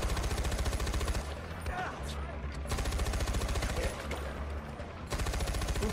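Sustained gunfire in the shooter game Far Cry 4, dense and continuous across a building interior, with rapid bursts layered under game ambience and occasional talk.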